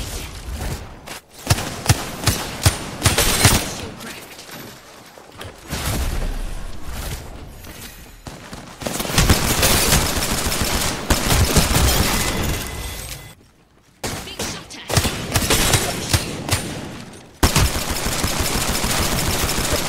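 Rapid automatic gunfire in the video game Apex Legends, loud dense bursts of shots and impacts that stop briefly and then resume, close and continuous across the stretch with no clear talk.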